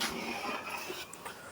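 A dog pants rapidly and lets out a faint whimper in a brief, close burst.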